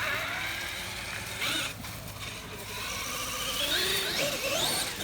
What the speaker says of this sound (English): But you can hear that electric motor. It just makes so much noise.